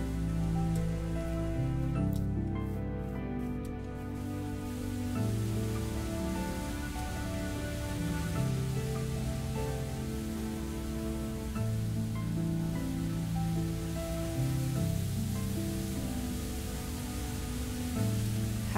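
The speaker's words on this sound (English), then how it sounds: "Oh, and it's raining over here." Steady rain in Minecraft, a continuous soft hiss of falling drops hanging at an even, quiet level from start to end, with no talking over it.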